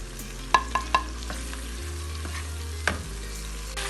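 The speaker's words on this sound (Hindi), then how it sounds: "मसाला हमारा अच्छी तरह भून चुका है" Spice masala being fried and stirred in a pan for chana daal, a steady low sizzle with a few sharp clinks of a spoon against the pan near the start and one more later, no voices.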